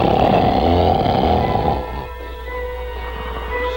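A giant in the Jack and the Beanstalk tale snores loudly, a heavy rumbling rasp that fills the first half and then drops to a quieter, steady drone.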